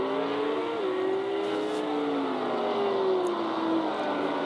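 RevoSlot GT slot cars, including a Porsche, race on a club track at Valhalla Speedway, giving a steady, continuous electric motor whine with pitch rising and falling as the cars speed along, with no voices.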